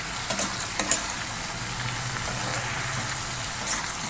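Vegetables cooking with green chillies, turmeric and salt in a pan give a steady low sizzle and bubbling, with a few brief clinks near the start and another near the end.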